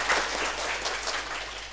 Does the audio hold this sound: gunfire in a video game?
no